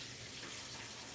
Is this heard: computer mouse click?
no